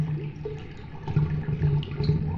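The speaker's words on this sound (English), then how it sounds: "Drink from the bloody toilet." Water gurgles and sloshes from a bloody toilet as a character drinks from it in the Deadly Premonition video game, with irregular wet bubbling at close range and no speech.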